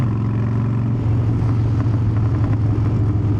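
Motorcycle engine running steadily up close with a low, even drone, pulling through gear shifts with slight rises and a faint mechanical clatter, no talking.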